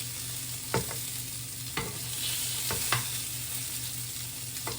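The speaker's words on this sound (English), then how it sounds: "you want to fry these on a medium heat" Meatballs fry over medium heat in a pan, a steady soft sizzle with a few sharp spoon scrapes and taps against the pan.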